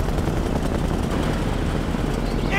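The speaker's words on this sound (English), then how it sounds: "Enemy chopper!" Enemy helicopter in Mercenaries 2: World in Flames, a loud continuous rotor and engine roar droning steadily throughout, close and unbroken.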